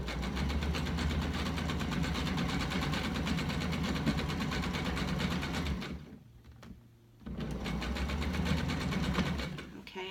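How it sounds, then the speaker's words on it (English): Domestic sewing machine stitching around the neckline of a hood, running steadily and loudly with a mechanical hum, pausing briefly near the end before resuming. "I'm just sewing over, and then I'm coming around to the other corner of the neckline"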